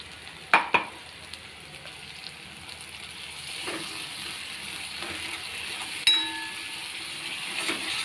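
Tomato purée gravy with a little water added simmers in a pan, giving a steady soft sizzle and bubbling hiss with a few louder clinks and stirring knocks near the start and midway.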